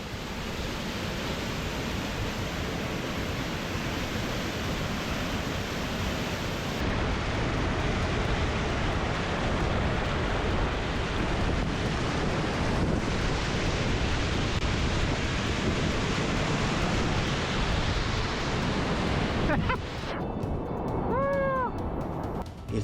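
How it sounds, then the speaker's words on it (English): A small waterfall about 2 or 3 meters high at Jeram Kedah pours as a steady, loud, broadband rush of falling water that fills the whole stretch, with no talking heard. "The waterfall itself small, just 2 or 3 meter high"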